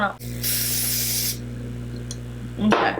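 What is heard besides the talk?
airbrush foundation mist spray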